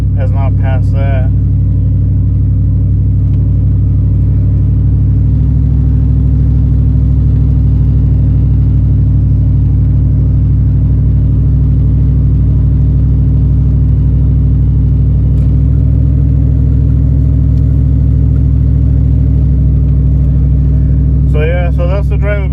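A vehicle recently fitted with a 6L80 automatic transmission drives along with a steady, loud engine drone and road rumble, shifting smoothly in the background while someone talks over it throughout.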